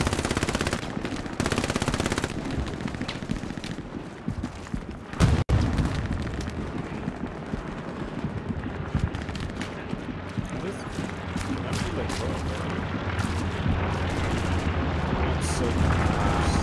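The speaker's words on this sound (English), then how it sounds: "there's a shit ton of bombs dropping" Bombs fall and machine guns rattle on a World War II battlefield in the shooter Hell Let Loose, heavy rumbling explosions and bursts of automatic fire layered densely throughout, with a sharp close blast partway through.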